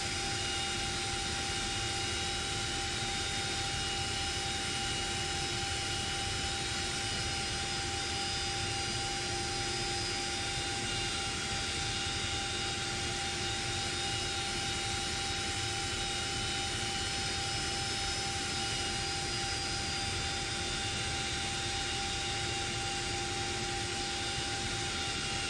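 Simulated CH-47D Chinook twin-rotor helicopter in X-Plane 11, its engines and rotors giving a steady, dense turbine drone with constant whine tones, heard close and unbroken throughout with no speech.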